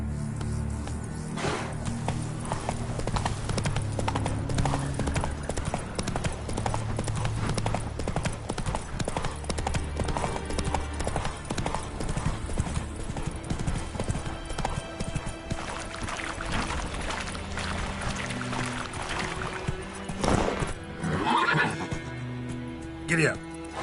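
Horse hooves clip-clopping steadily in the video game The Witcher 3, with a horse neighing and characters talking over the rhythmic hoofbeats.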